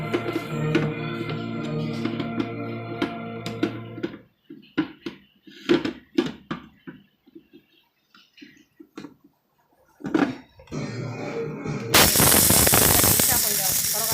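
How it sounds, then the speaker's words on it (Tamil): A steady motorised hum gives way to talk, then a loud, harsh mixer grinder roars up close at the end, coarsely grinding horse gram. "கொஞ்சம் குறகுறப்பாக அரைச்சிக்குவோம்."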